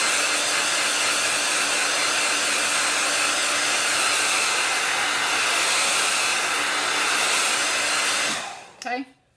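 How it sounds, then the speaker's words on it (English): A hair dryer blows with a loud, steady whoosh up close for several seconds, then switches off and winds down. "If you have a hair dryer, it works just as good. It's just a little bit louder."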